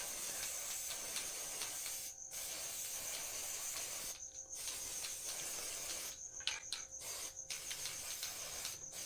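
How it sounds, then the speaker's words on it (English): A spray can spraying paint onto a wooden sign produces a close, continuous hiss, interrupted by several short pauses and brief bursts near the end. "Probably spraying too much on there"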